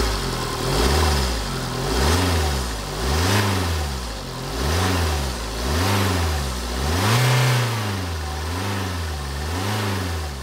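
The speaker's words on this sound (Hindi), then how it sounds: "अब मैं इंजन की साउंड आपको सुनाता हूँ" A 2013 Mini Cooper Countryman diesel engine runs steadily nearby, its low throb rising and falling in repeated gentle revs with no talking.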